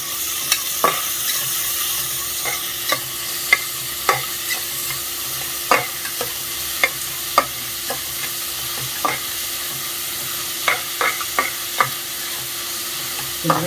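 Chopped onions with a little salt fry in a pan for a mutton curry, giving a constant low sizzle broken by sharp, scattered stirring clicks and scrapes at irregular intervals.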